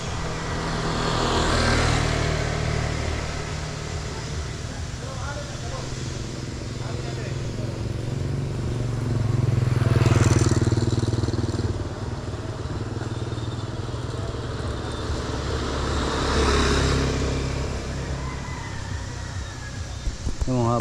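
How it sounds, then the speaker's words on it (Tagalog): Motorcycles and cars passing on a road nearby, a steady engine drone that swells and fades in a few passes, with people talking over it throughout. "mga sakyan na nadaan"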